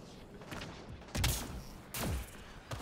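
A deployed turret in the Apex Legends video game fires three short, loud bursts of rapid gunfire, spaced under a second apart over faint background game noise.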